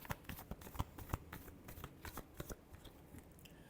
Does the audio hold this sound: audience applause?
no